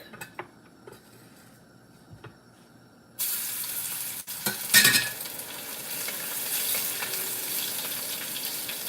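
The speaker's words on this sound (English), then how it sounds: "Okay, so I'm gonna go ahead and roast our garlic." Garlic hits already hot, boiling oil and sizzles loudly and steadily, after a few quiet kitchen clinks, while being stirred for a Khmer chicken and chayote stir-fry.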